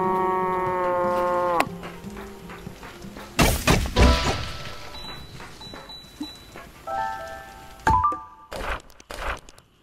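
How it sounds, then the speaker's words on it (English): A Punky's Speak and Say toy, worked by whacking its handle, plays an electronic cow moo as a steady buzzy tone, followed by several sharp thumps and clatters of the toy being handled. "The cow says..."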